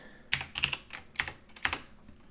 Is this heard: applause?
no